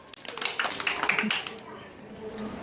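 A classroom of young children claps together in a short burst of quick, close applause, mixed with talking voices and fading after about a second.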